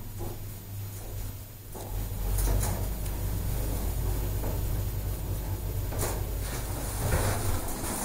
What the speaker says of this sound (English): Mind the doors. Doors closing.